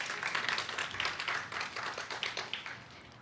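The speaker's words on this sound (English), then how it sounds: "Can we please give her a round of applause?" An audience at a Somali Independence lighting ceremony in Columbus, Ohio applauds a poet, a modest round of clapping with distinct uneven bursts that gradually fades.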